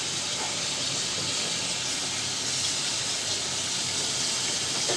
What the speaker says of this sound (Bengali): ঢাকা দিয়ে আলুটাকে সিদ্ধ করবো